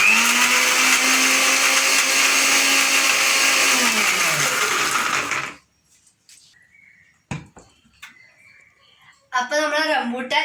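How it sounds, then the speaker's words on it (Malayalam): A kitchen mixer grinder blends rambutan shake with cashews and almonds, running loud and steady for about five seconds before it stops, followed by clatter and then brief talking. "ഇനി നമുക്ക് ഇതെല്ലാം കൂടി മിക്സിയിലിട്ടൊന്ന് അടിച്ചെടുക്കണം"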